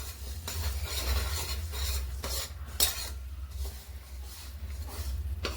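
A spoon stirs old jaggery as it cooks in a pan: a steady scraping and clinking of metal on metal over a low hum, with no talking.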